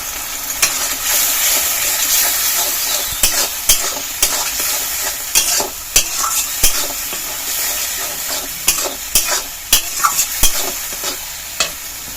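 Kashmiri chili powder frying in a pan for an egg bora curry, with a steady loud sizzle and repeated scraping strokes of a spatula stirring throughout.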